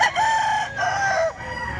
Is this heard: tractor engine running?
no